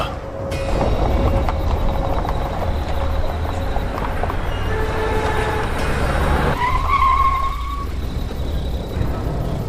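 A car brakes and its tires skid to a stop on a road at night, a steady engine rumble breaking into a sharp squeal near the end, loud and close, with no talking.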